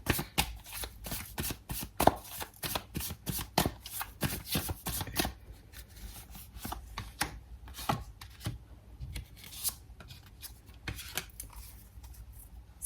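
Tarot cards are shuffled and drawn by hand, a busy run of crisp riffling slaps and flicks up close that thins into scattered, quieter card snaps and slides, with no talking.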